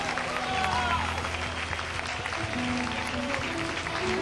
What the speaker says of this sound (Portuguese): Aplauda mesmo, forte ao Senhor.